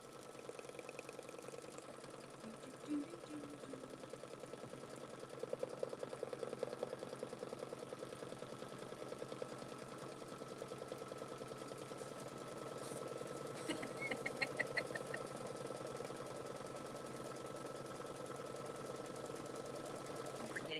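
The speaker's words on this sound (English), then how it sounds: "It's going to stitch" A sewing machine stitches a paper folio craft project, making a faint, steady mechanical whirr that runs the whole time, with a slightly louder rattling burst toward the end.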